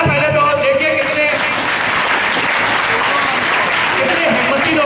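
A school audience claps in sustained, dense applause, loud and close, steady from start to finish.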